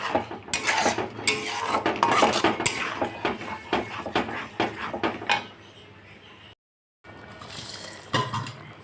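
A utensil scrapes and clatters against a pan as shrimp paste is stirred into frying masala in a Bengali home kitchen, with steady close-up clinking and scraping, a brief silent gap, then more stirring.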